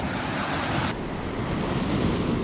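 Rough, churning sea surf at a beach during surfcasting, with a steady roar of breaking waves and wind buffeting the microphone, loud and continuous.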